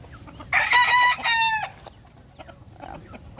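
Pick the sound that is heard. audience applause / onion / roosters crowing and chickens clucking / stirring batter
roosters crowing and chickens clucking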